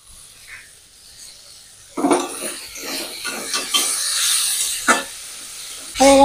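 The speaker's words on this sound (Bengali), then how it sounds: "হয়ে গেছে আমার শাপলা ভাজা।" Water lily stems fry in a pan with toasted poppy seeds scattered over them, giving a soft steady sizzle with scraping and stirring clatter and a few sharper clinks from utensils against the pan.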